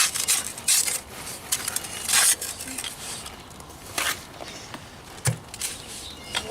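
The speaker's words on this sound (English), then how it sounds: "Trowel, and we're packing it in there just like that." A trowel packs mortar into the joints of a Depression-era stone wall during repointing, giving intermittent scraping and gritty rubbing strokes at close range with brief clinks, with no talking.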